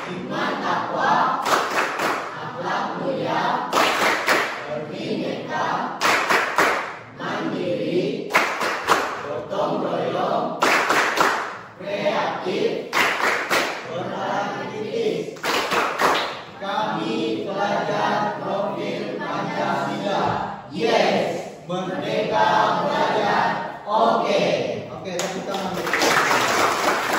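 Schoolchildren standing to perform the Pancasila student profile clap chant, loud rhythmic group clapping mixed with shouted chanting voices in a classroom, continuing steadily throughout.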